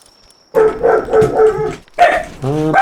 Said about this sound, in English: I hear some cat and dog action happening in my house